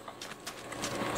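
Horse hooves clopping in Minecraft during a village raid episode, a soft continuous patter of hoof steps under ambient game noise, fairly quiet and steady.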